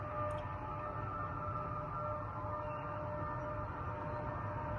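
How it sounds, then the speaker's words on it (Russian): A civil defense siren sounds over Orenburg, Russia, as a steady, sustained wail that is distant and even throughout, with no voices. "В российском Оренбурге звучала сирена."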